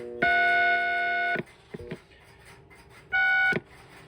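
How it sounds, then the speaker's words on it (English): Two electronic tones from a Western Electric touch-tone phone keypad on a step switching system, a long steady one over a second and a shorter one later, with faint clicks between them. "I have dial tone off my step system, so I'm going to press a single button."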